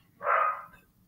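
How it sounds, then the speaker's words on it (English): A single short dog bark rings out indoors, moderately loud and close, a clear half-second yap against near silence. "Sorry, my dog's being noisy again."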